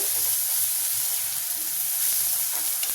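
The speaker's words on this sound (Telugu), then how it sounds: "అల్లం వెల్లుల్లి పేస్ట్ పచ్చి వాసన పోయేలాగా ఫ్రై చేసుకోవాలి" Ginger garlic paste fries in a pan for a prawn fry curry, giving a steady, loud, close sizzle with a bright hiss that runs unbroken for the whole stretch.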